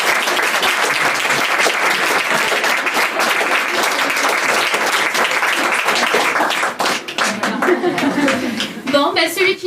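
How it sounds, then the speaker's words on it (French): Loud, dense applause for a performer named Lilou at a show in Aix-en-Provence, sustained clapping from a close audience with some laughter, thinning out near the end as a voice begins. "Je vous demande d'applaudir Lilou."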